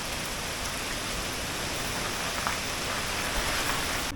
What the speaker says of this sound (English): It's storming pretty good out there.